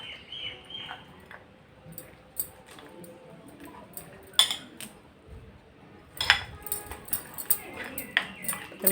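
A spoon clinks and scrapes against a bowl while hair dye paste is stirred, in irregular bursts of close clatter with someone talking over it.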